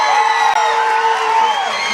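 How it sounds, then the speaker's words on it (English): Loud, sustained crowd of cheering and whooping spectators at a high school ice hockey game in an arena, a continuous roar with shouts and high yells throughout. "Crowd is really fired up here"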